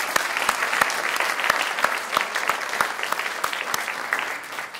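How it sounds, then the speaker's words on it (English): A crowd at a 2019 Teacher of the Year ceremony applauds its donors with dense, steady clapping and sharp individual claps standing out, sustained at an even level for about five seconds. "I'd like to thank all our donors with one last round of applause."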